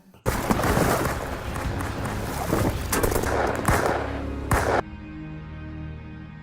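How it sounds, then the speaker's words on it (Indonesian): Rapid bursts of enemy gunfire from the film Triple Frontier crackle loudly over a dense action mix with engine rumble, ending abruptly into a quieter low hum. "Para musuh beberapa kali melepaskan tembakan"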